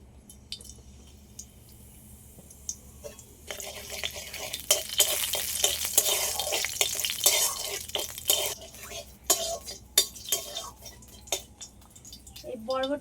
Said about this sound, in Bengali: তেলের মধ্যে অল্প করে কালো জিরা দিয়ে দিচ্ছি